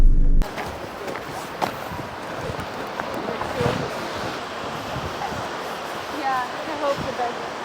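Seljalandsfoss waterfall in Iceland roars as a steady, loud broadband rush of falling and splashing water with wind buffeting the microphone, continuous throughout after a brief opening burst.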